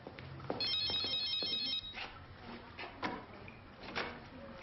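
A telephone rings indoors in a crime drama, a bright electronic trill lasting just over a second, then quieter room noises and small knocks.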